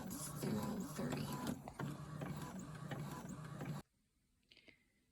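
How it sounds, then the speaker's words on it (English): Epson EcoTank ET2803 printer printing, a loud mechanical whir with rhythmic clicks and carriage shuttling that stops abruptly near the end, leaving a quiet room with a faint tap. "right now it's printing from my printer, and I just wanted to show you guys again. It's the Epson EcoTank"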